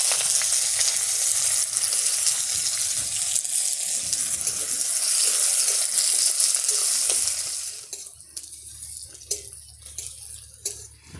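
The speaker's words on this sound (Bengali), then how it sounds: "পেঁয়াজ কুচি ভাজা ভাজা হয়ে গেছে" Chopped onion fries in oil that holds bay leaves and five-spice tempering, making a steady, loud sizzle for about seven seconds before it drops to a quieter crackle with scattered clicks of stirring.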